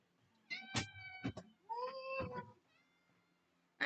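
A cat meows two or three times in quick succession, close and clear against a quiet room, followed by a brief sound at the end.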